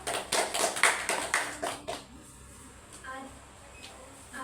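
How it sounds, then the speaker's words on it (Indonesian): A small group claps for a classmate during a school group counselling session: about two seconds of quick, close clapping that stops abruptly, leaving quiet room tone. "Beri aplaus untuk Ara"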